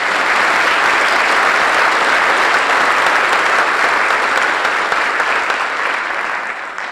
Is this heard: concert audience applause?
yes